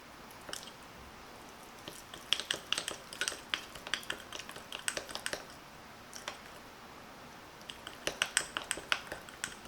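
Hand-mixing a pork bulgogi marinade with sugar and sesame oil: quiet, irregular wet squishes and small clicks in bursts, with a pause midway before more rapid stirring.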